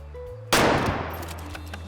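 A .243 hunting rifle in the hunting game Way of the Hunter gives faint quiet reload clicks, then one loud, sharp shot with a long rolling echo that slowly fades.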